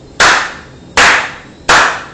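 Three sharp gunshot sound effects ring out at roughly even intervals, each a loud crack that decays over about half a second, close and isolated with no voices.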